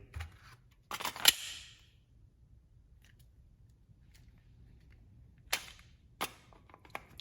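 An H&K VP9 pistol's magazine is released and dropped, giving a few sharp, close metallic clicks and clacks spaced apart in a quiet room.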